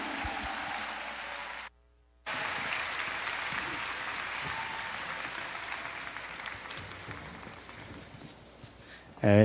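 A large conference audience applauds steadily, a broad far-off wash of clapping broken by a short gap of silence early on, then easing slightly before a louder sound at the end.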